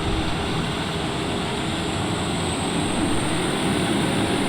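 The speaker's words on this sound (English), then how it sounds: "Full power, take the brakes off." A TBM 930 turboprop airplane engine drones steadily at full takeoff power, a constant broad roar with a faint high whine above it.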